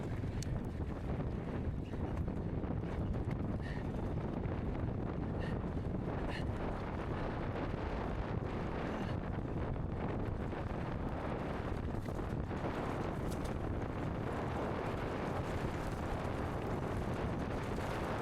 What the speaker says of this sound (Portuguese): Vocês estão ouvindo o barulho do vento?